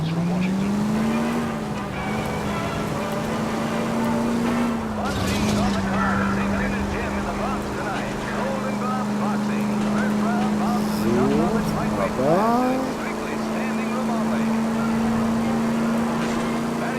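Steady car engine drone from the video game L.A. Noire, holding a constant pitch with brief revving shifts and a couple of tire-screech sweeps near the end, loud and continuous under someone talking.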